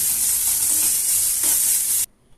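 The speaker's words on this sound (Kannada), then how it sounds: "ಇದನ್ನು ಒಂದು ಐದು ನಿಮಿಷದವರೆಗೂ ಹಸೆ ಹೋಗೋ ತನಕ ಸಣ್ಣ ಉರಿಯಲ್ಲೇ ಚೆಂದಾಗೆ ಫ್ರೈ ರೀ" A chivda spice mix fries over a low flame, making a continuous close sizzle with soft stirring before it cuts off abruptly near the end.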